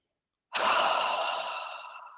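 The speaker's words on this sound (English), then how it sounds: "taking a couple of deep clearing breaths in through the nose" A single long, deep breath drawn in through the nose during a slow-flow yoga session, close and clear, rising quickly then tapering over about two seconds, with silence before it.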